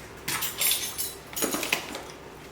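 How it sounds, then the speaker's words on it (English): Two clinking, cracking taps of an egg against a bowl, brief and close, followed by faint sounds of the egg being handled. "Crack this egg. It's going in there."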